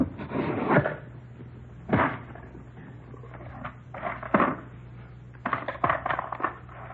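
A taped cigar box is handled and pried open in several separate bursts of scraping, tearing and knocking, fairly close and separated by short pauses, with no talk.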